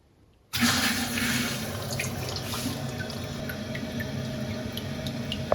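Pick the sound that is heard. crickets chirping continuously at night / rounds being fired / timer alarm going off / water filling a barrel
water filling a barrel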